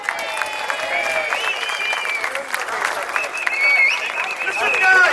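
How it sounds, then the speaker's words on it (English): A crowd at a street demonstration in London breaks into sustained applause, steady dense clapping with scattered whistles and shouts over it, swelling louder near the end. "Give them a round of applause, please."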